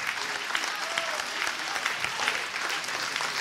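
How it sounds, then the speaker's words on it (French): Steady applause from an audience after a poet's recital at a political gathering in Lorient, dense and continuous at moderate volume with no voices over it. "Vous pouvez l'applaudir"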